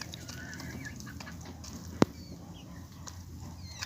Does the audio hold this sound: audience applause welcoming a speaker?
no